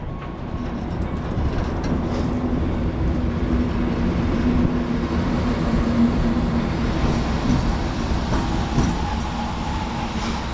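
A shunting locomotive moves alongside a train being marshalled, producing a loud, steady rail rumble with faint clatter throughout and no talk.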